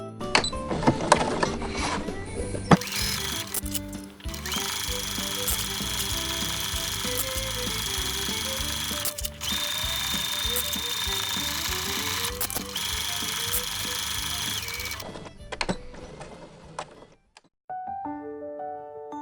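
A sewing machine stitches a festive fabric holiday tote bag, running in a steady fast mechanical whir with a brief pause, stopping near the end before a short tail of handling noise.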